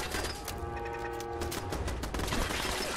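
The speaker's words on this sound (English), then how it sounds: "Still shooting me from back there." Enemies keep shooting from a distance inside the Corvega Assembly Plant in Fallout 4, a dense, continuous rattle of rapid gunfire lasting throughout, steady and fairly loud with no voices.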